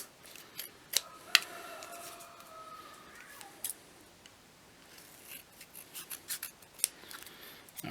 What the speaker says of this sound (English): let's go around with a pair of scissors here